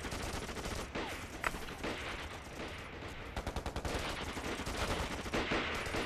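Gunfire in an anti-Japanese war spy film, dense overlapping rapid bursts like machine-gun fire and rifle shots, sustained and loud across the scene without pause, no talking.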